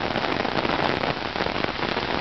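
Steady, loud rain pours down on a Sunday afternoon in Vila Regina, Itaquera, São Paulo, a dense continuous hiss of drops on surfaces with no voices.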